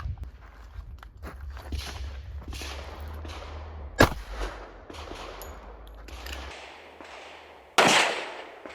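A single sharp report from a .45 ACP pistol firing a 200 grain Federal jacketed hollow point, loud and near, with a second loud crack near the end over steady outdoor background noise.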